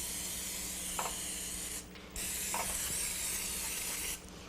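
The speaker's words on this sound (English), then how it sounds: "spray them in your muffin pan" Cooking spray is sprayed into a muffin pan in two sustained bursts of close, steady hiss, each lasting about two seconds with a short pause between, followed by a third burst starting at the end.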